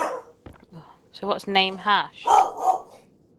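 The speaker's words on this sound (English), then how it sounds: "Sorry about the dog, guys." A pet dog barks and yips several times in short bursts close by, mixed with someone talking in the same room.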